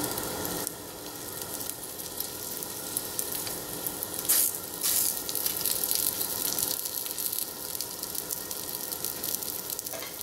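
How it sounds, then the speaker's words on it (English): Spinach and mushroom ravioli sizzle steadily on an olive-oiled grill pan, a continuous close crackle with a brief louder hiss burst partway through, no talking. "we're gonna put the lasagnas on the grilling pan"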